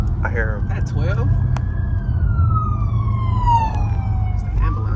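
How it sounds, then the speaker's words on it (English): Ambulance siren wailing steadily through city traffic, one long sweeping tone gliding slowly downward over the low rumble of a car interior, with brief talk from people in the car. "That's the fucking ambulance"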